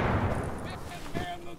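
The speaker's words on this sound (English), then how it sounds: "grenade!" A grenade goes off during a police-station raid in a multiplayer video game, a loud low boom with crackling debris that rolls on under continuous game noise and voices.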